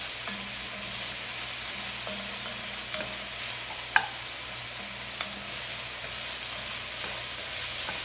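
Browned roast pieces are stirred in a pot for green chili, giving a soft, low sizzle under slow stirring scrapes and one sharp clink midway, close and fairly quiet, with no talk.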